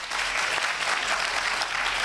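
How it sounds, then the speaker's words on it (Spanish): Audience applause at a tech talk on women in technology at T3chFest: dense, continuous clapping from a sizable crowd, loud and even throughout. "¿Podéis aplaudir?"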